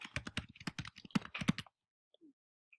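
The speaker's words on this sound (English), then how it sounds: "Type it in." Quick bursts of keystrokes on a computer keyboard typing a search, close and crisp for about a second and a half, then quiet with a couple of faint clicks.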